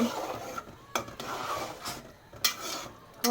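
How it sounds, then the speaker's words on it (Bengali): A spoon stirs a curry of small fish in a pan, giving brief scraping and clinking strokes at irregular intervals over a faint background hiss, close and quiet. "এই তো নাড়াচাড়া করতেছি"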